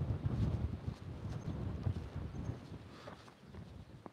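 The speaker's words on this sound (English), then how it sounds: "it's very windy now" Wind at Zurrieq, Malta buffets the microphone with a steady low rumble and gusty roar, with no one speaking.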